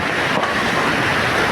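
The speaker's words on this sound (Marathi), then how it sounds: "धबधबा तर बघण्यावर काय विषय नाही" Savatkada waterfall roaring in a steady, loud, broadband rush of falling water that fills the whole moment without a break.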